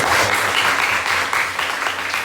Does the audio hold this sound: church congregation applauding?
yes